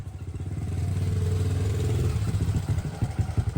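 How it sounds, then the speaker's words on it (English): An old motorbike engine putting along nearby, a rhythmic low thudding put-put that pulses steadily and grows more uneven toward the end, heard alone. "a familiar sound reached her ears, the put, put, put, put of an old motorbike"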